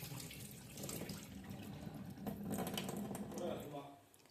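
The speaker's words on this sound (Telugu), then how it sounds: "బాగా కడుక్కోవాలి, 4-5 సార్లు కడగాలి." Chopped eggplants are swished and rinsed by hand in a vessel of water, giving close, sloshing and splashing sounds that swell and fade over a few seconds.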